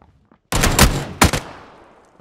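A loud, close burst of rapid automatic gunfire from a player's weapon in a shooter video game, two quick volleys with a short gap and a ringing decay after, no speech.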